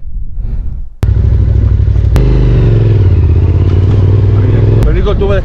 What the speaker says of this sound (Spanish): El único tubo de escape que roza ahí.